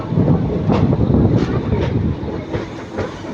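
An Intercity Express train running from Erode to Palakkad rumbles along at speed, its wheels giving a regular clickety-clack over rail joints amid a loud, steady rolling roar heard from on board.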